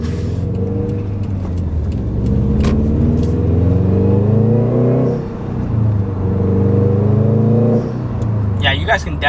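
A 2015-or-later Subaru STI with a Grimmspeed dry-con air filter accelerating on a road, a loud steady engine drone rising in pitch through the gears, heard from inside the car with a voice talking over it.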